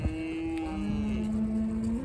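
Cattle moo on a farm where calves and mother cows are fed, with one long, loud, close low moo that bends in pitch and fainter lowing behind it.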